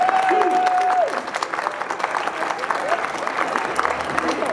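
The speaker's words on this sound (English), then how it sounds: "let's give another round of applause to all the winners tonight" An audience applauds at an arts awards ceremony, with steady, moderately loud clapping from a crowd and brief talk at the start.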